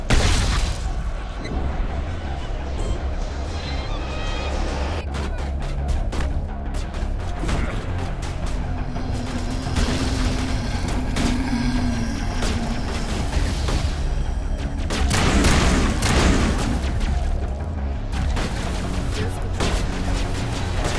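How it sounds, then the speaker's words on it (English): Grenades blast during combat in Mass Effect Legendary Edition at a zombie-infested colony, with heavy booms and crashes layered over dense game noise and gunfire, loud and continuous. "Grenades."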